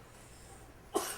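One short sneeze bursts out near the end, after quiet room tone. It is sudden but fairly faint.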